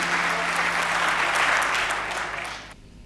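Audience applause at a Hindi poetry gathering (kavi sammelan) as a poet is welcomed: a dense, loud wash of clapping from a large crowd that holds steady, then thins and stops abruptly near the end.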